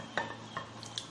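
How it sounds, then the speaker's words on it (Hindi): Cooled, cooked bottle gourd (lauki) for raita is scooped into a kitchen vessel, making four quick utensil scrapes and soft clinks spaced about a third of a second apart, fairly quiet and close, with no talking. "अब हम इसे इस बर्तन में निकाल लेंगे"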